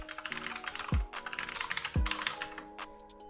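Typing on a computer keyboard while entering login credentials during a Windows install, steady quiet key clicks in quick bursts, with two low thumps breaking the run.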